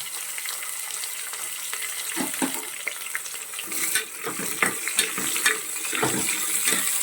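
Two medium onions, sliced, fry in hot oil in a pan with a steady sizzle, and stirring scrapes grow busier toward the end.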